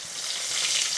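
Masala fish in batter frying in hot oil gives a steady, close, bright sizzling hiss that swells slightly toward the end, with no talking.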